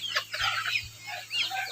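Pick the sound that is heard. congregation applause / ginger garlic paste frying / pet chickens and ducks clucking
pet chickens and ducks clucking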